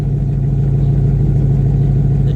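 A 1991 Formula F-body car idling through a chambered GMMG catback exhaust, a loud, steady low burble with even rhythmic pulsing and no talk.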